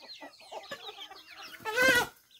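Chickens and a rooster on a small rural farm in the early morning give a run of quick close clucks, followed by one louder drawn-out squawking call near the end.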